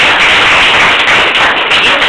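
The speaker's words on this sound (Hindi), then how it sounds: "तो इसके लिए एक जोरदार सी ताली हो जाए।" An indoor audience breaks into a dense, loud round of applause, many hands clapping together in a continuous wash close by for the whole moment.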